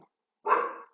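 A single dog bark rings out at moderate distance indoors, followed by the start of another, with quiet gaps around it.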